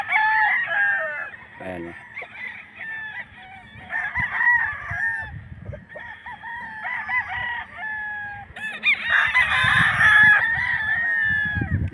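Stag roosters crow repeatedly with scattered clucking among other fowl at a poultry market selling chickens, several loud nearby crows overlapping amid a background murmur of people talking.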